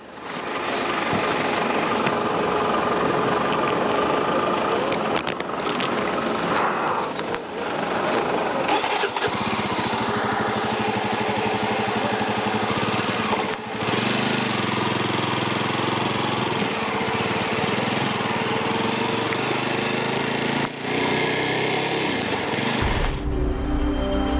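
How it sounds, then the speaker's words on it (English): Motorcycle engines drone loudly and continuously during an army motorcycle rally along the Udhampur-Srinagar highway toward Srinagar, a steady close engine roar with a few brief dips, with no talk over it. "the army commander is riding an open motorcycle all along this journey"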